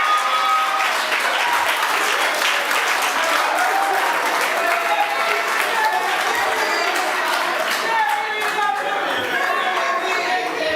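Audience at a youth council political debate in Anguilla applauding a candidate after his speech, steady loud clapping throughout with scattered chatter and laughter.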